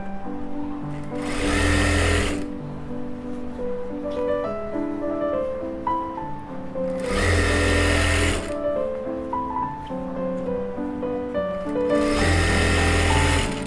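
A sewing machine stitches a palazzo waistband in three loud, steady whirring bursts, each lasting about one to two seconds, with quieter pauses between them. Background music plays throughout.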